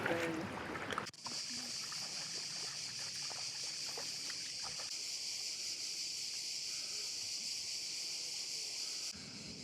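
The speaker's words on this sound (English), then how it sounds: "rowing the boat" Oars working a rowboat in a bay, a steady wash of water and faint dripping splashes under a constant high hiss, with a brief louder burst of noise at the very start and no voices.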